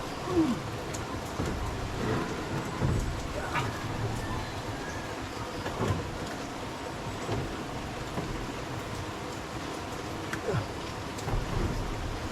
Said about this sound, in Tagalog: andyan na naman yung ulan.